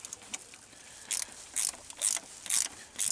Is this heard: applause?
no